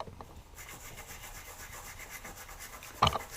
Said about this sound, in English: And scrub.